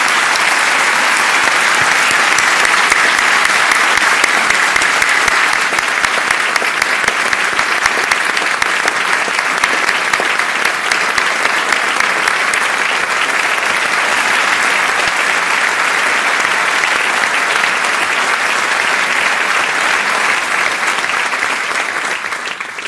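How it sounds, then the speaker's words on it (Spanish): Sustained applause from a large audience at a political rally, dense steady clapping that fills the whole stretch at close range and fades slightly at the end. "Ells sí que us agrairia un immens aplaudiment per ells."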